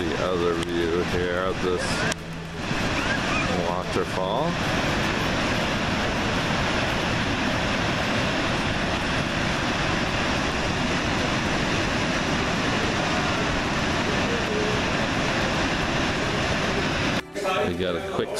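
A powerful waterfall in Iceland roars in a dense, continuous wash of sound echoing off the surrounding rock walls, loud and steady throughout, with a voice briefly heard over it near the start.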